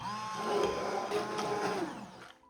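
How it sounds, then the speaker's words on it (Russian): Immersion or countertop blender whirring through ice water for chicken plov prep, a steady motor drone with sloshing swirls, close and loud, winding down and stopping at the end. "И сейчас нам нужно проблендерить."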